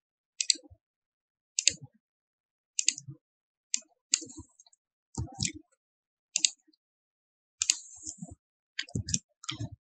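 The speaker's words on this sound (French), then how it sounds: "Je clique sur chercher, donc voilà." Computer mouse clicks while operating ArcGIS Server geoprocessing software, a series of sharp, close clicks spaced around a second apart, some in quick pairs, with soft talking in between.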